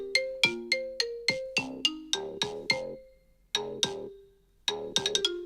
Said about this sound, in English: my new ringtone is even cooler